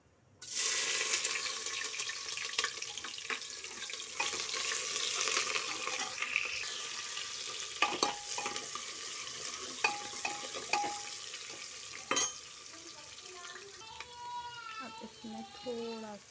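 Sliced onions frying in hot oil with bay leaf, cinnamon, cumin and fenugreek for a lauki tarkari, a loud, continuous sizzle with scattered crackles and spoon scrapes, easing toward the end while a voice talks in the background.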